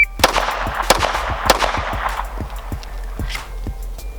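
A Glock pistol fires on a shooting range, a rapid string of sharp, loud close shots with echoing reports, the pace loosening toward the end.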